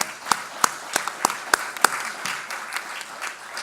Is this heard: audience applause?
yes